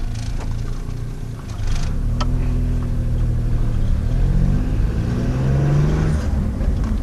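A Geo car running on pure hydrogen fuel drives off on a test drive, its engine steadily loud and close with rising, shifting tones as it accelerates and moves through gears, with no talking.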